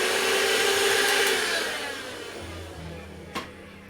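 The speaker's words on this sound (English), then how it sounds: "I just want to see what happens when I vacuum" A vacuum cleaner runs over a pastel drawing on Pastelmat board, a steady loud motor whine that eases off midway and fades toward the end, with a brief click near the finish.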